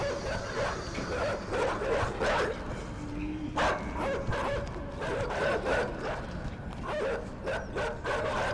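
Dogs in the side-scrolling video game Inside bark, yip and whimper steadily over a continuous game soundscape, with repeated sharp bursts throughout; no one speaks.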